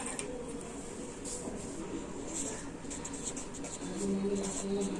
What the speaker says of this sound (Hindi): हम लिखेंगे